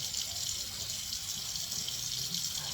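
Tap water runs steadily into a sink while coffee scrub is rinsed off the skin, a continuous near hiss of flowing water with no talking.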